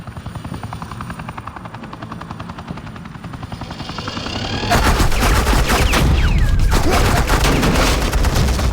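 Gunfire erupts in a Batman video game battle, a helicopter whirring steadily at first before dense rapid bursts of automatic fire and booms take over loudly for the rest.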